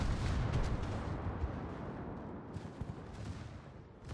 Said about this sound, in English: who just fired AP out of the butt turret